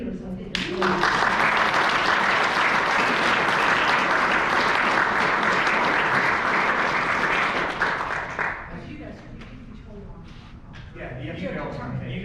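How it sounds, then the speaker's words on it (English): A troop at an Eagle Scout court of honor applauds its leaders, a loud, dense burst of clapping that holds steady for about eight seconds before fading into quieter room murmur. "if the troop would just give a big round of applause to all your leaders"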